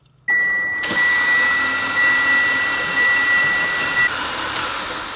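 Mitsubishi Evo engine spun over by the starter with its spark plugs removed to build oil pressure, giving a steady, close whirring drone with a high whine that runs unbroken for about five seconds, with no talking.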